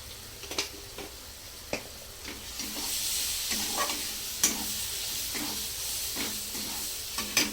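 Chopped vegetables sautéed with a pinch of turmeric in a pan for Maharashtrian capsicum bhaji, with a quiet, steady sizzle and intermittent clicks and scrapes of a spatula stirring, heard close without voices.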